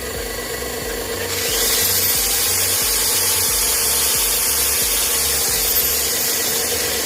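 An electric drill running off a two-stroke generator that needs no fuel, with the generator's steady low engine drone underneath as the drill starts up and whirs continuously and fairly loudly.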